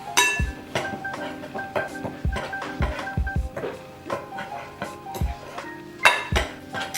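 Baking soda stirred into cake mix in a bowl, a spoon or whisk knocking and scraping the bowl in repeated close clinks and taps with steady clatter throughout.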